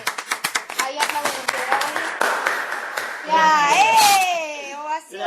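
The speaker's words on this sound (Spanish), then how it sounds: "yo le voy a dar un aplauso, y mirá que no lo hacemos con todos, pero la verdad que ahí aplauden" A few people clap in quick, uneven claps near the microphone, building into a brief scattered round of applause before children's and adult voices take over.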